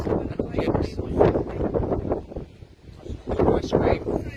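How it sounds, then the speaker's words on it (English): Wind gusting across a seaside beach with seagulls about, buffeting the microphone in surging bursts and fading briefly near the middle. "Very windy up there."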